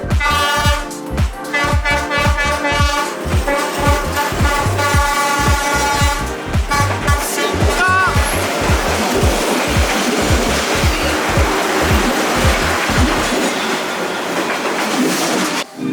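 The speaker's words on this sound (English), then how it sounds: "And there are even trains passing through very narrow streets." A train rolls through a narrow street in Vietnam, its wheels beating a loud, steady clickety-clack close by while the carriages rumble past continuously.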